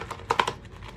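Clanking of a brush or utensil against a bowl while whipping Victory shaving soap into lather, a few sharp close knocks clustered in under a second, with no voices.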